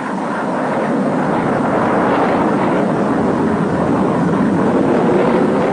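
An X-15 rocket plane in flight gives a loud, steady broadband roar that holds unchanged for the whole stretch, with no voices.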